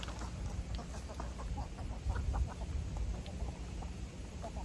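Hens cluck softly and continuously in a backyard coop on a cold day, several birds making low, overlapping murmuring calls against a steady outdoor background.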